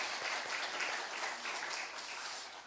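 A church congregation claps together in steady, sustained applause, a dense even patter that holds for a few seconds and tapers slightly at the end, with no talking over it.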